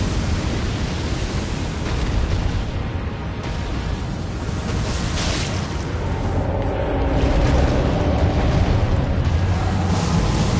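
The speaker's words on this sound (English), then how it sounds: "No, not the fire breath." A boss's fire breath attack in Elden Ring, a loud sustained roaring rush of flame that swells and churns for several seconds, dense and noisy, building slightly louder toward the end.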